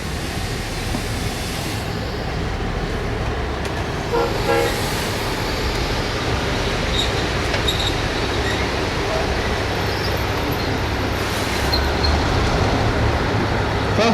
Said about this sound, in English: the 9911A and the Nebraska Zephyr train that it's pulling is a very distinctive train